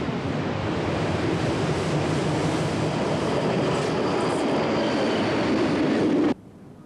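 A Swiss standard gauge train on the Bern-Lötschberg-Simplon railway: a steady, loud rushing rumble of running rolling stock that holds for several seconds and then cuts off abruptly, with no voices.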